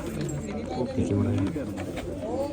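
Pigeons coo in low, throaty bursts at a pigeon-flying event in Ispur village, Punjab, with murmuring voices mixed in nearby.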